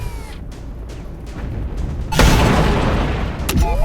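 Weapon fire and an explosion in the video game Shadow Strike, a drone strike on an armored target, with a steady low rumble building into a loud booming blast and a second sharp impact near the end.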